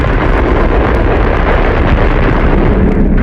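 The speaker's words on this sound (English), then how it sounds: "At 11:32 a.m. Moscow time, the bomb exploded." Tsar Bomba nuclear bomb explosion, heard as a loud, sustained roaring rumble with wind-like turbulence filling the whole stretch.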